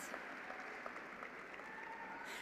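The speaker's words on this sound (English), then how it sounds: "Big round of applause." Steady, fairly faint applause from a university commencement crowd, a continuous wash of clapping held at an even level throughout.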